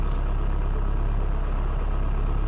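A Rover Mini's engine idles through its warm-up about four minutes after a cold start, giving a steady, close, dense rumble that never changes, with no voices.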